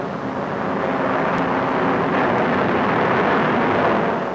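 Spitfire fighter planes climb together in formation, a loud, continuous broadband engine roar that holds steady and swells slightly without breaks or voices.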